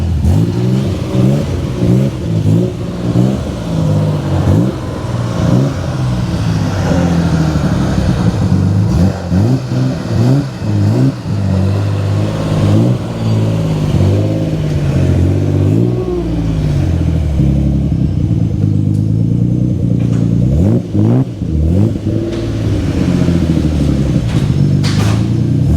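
A Nissan 300ZX making over 900 wheel horsepower, with a T56 gearbox, revs on a dyno: loud, close engine pulls rising and falling repeatedly in pitch, with a deep rumble throughout and no talking.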